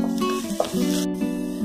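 Crushed ginger and garlic stirred in a hot pan sizzle with a soft scraping, close and fairly loud, and a brief clink of a utensil against the pan partway through.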